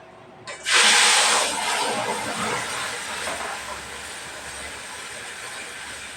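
Pointed gourd peel fry, together with a paste of onion, garlic and green chilli, goes into a hot wok: a sudden loud sizzle bursts out, then settles into a steady, slowly fading hiss of frying.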